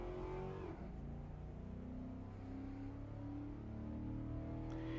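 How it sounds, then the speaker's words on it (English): A Spec 71 race car engine in an Assetto Corsa sim racing game revs and drones steadily through the gears, with a sharp downshift blip near the start. It is fairly quiet and alone, with no talking. "You're just gonna hear glorious engine sounds. All the vrooms."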